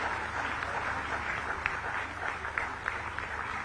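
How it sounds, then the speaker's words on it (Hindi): Ongoing audience applause at a Jharkhand ceremony where teachers receive appointment letters, a fairly faint, steady spread of clapping from a crowd, heard at a distance with a low hum underneath. "तालियां लगातार होती रहे।"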